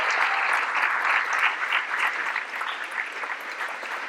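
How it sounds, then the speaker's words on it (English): Sustained audience applause for graduates at a school board recognition event, a dense steady wash of many hands clapping close by for about four seconds, with no talking. "Can we all give these graduates a round of applause?"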